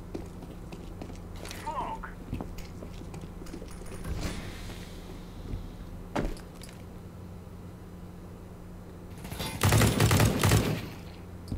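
Gunfire in Counter-Strike: Global Offensive, with a few sharp single shots spread through the clip and then a loud burst of rapid fire near the end, over steady game background noise.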